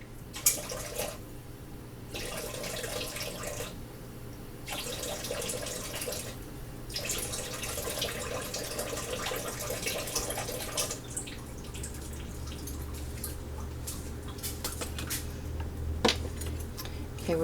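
Water runs from a kitchen tap in several bursts, switched on and off while measuring a few tablespoons for hummus, with dripping and splashing into a container nearby.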